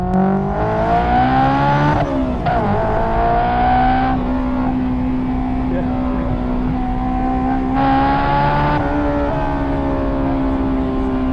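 A Honda S2000 engine accelerates hard down the road, loud and close, its pitch rising through sharp upshifts with brief dips between gears, then holding at a high sustained wail.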